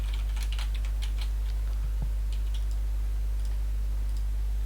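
Quick bursts of typing on a computer keyboard while writing a Java program, light irregular key clicks clustered near the start and thinning out later, faint over a loud steady low electrical hum.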